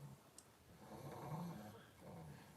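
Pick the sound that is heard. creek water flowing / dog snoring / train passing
dog snoring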